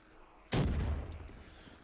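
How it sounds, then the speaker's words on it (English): A Semtex grenade explodes against a barrel in Call of Duty Black Ops 3 zombies, one sudden loud boom that decays into a rumbling tail over about a second. "we're actually going to take our Santex grenades and we're going to blow up 3 of these barrels"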